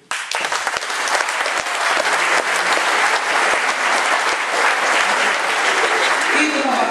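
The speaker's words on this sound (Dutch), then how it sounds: "Applaus voor jullie." Dense, sustained applause from an audience at a school exam diploma ceremony, loud and continuous for the full stretch with no break.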